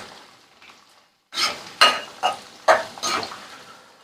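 Cashews and other ingredients fry in oil in a pan, heard as a faint hiss followed by a short pause and then five sharp bursts of stirring and sizzling, close and fairly loud, with no one speaking.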